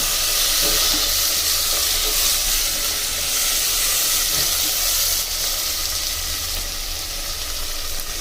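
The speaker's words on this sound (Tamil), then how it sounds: "தக்காளி வெங்காயம் நல்லா வதங்கிட்ட மக்களே" Onions and tomatoes sautéing in a pan for a village-style fish curry, a steady loud sizzle and hiss that runs throughout with no voices.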